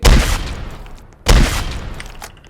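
Two loud gunshots in the Roblox game Dead Rails, each a sharp blast with a decaying tail, spaced about a second apart with no talk.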